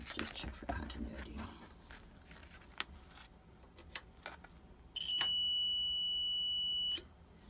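A multimeter set to continuity, used to test a water heater with no hot water, gives one sustained high electronic beep of about two seconds. Quiet clicks and handling noises come before it, and a faint voice murmurs in the background.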